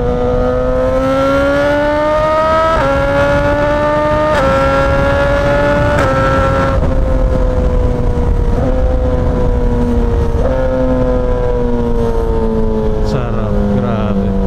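Suzuki GSX-S1000 motorcycle engine held at a loud, steady roar, the pitch stepping up through several rising shifts then easing down, close and continuous throughout.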